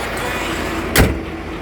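The door of a 2016 Chevrolet Captiva LS diesel SUV shuts with one solid, close thud over a steady low background hum.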